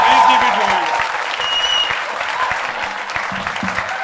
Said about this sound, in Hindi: बजती रहनी चाहिए तालियां